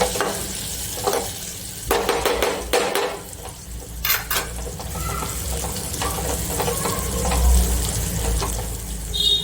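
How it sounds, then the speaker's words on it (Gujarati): A metal spoon scrapes and clinks against a pan as Kashmiri red chilli and garam masala are stirred into a sizzling tempering for drumstick-leaf dal dhokli, in repeated close strokes with a steady hiss. "હવે આપણે એક ચમચાની મદદથી બધું મિક્સ કરી લઈશું આ રીતે."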